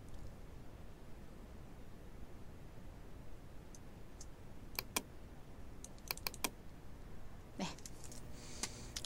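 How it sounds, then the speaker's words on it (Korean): A computer keyboard shortcut is pressed during Photoshop work, giving a few sharp, quiet key clicks in quick clusters over a steady hiss of background noise, with no speech. "컨트롤 T를 눌러서 조금만 크기를 축소하겠습니다"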